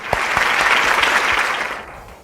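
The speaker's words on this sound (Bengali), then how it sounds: "শানিকের জন্য আবারও একটা জোরে হাততালি।" A studio audience at a student quiz show gives a contestant a burst of loud applause, many hands clapping close and dense before fading out quickly at the end.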